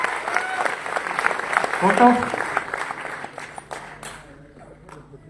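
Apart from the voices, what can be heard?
seminar audience applauding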